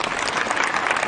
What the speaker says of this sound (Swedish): En stor applåd till att börja med.